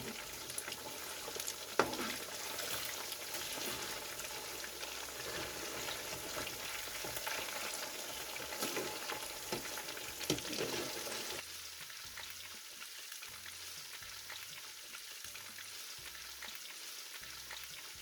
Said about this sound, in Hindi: इन्हें हम फ्राई करेंगे हल्का सा। अब इन्हें पलट लेते हैं।